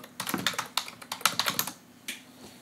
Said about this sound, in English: Let me type in Anthony.